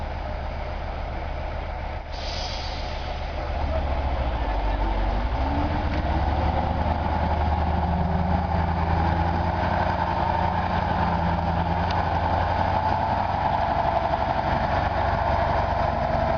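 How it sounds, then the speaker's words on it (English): A KRAZ K700 diesel truck runs in deep mud, its heavy engine droning low and steady, then building into a louder, fuller rumble after a brief hiss, with no voices. "Meet the mighty KRAZ K700, revving its massive diesel heart as it rolls into position."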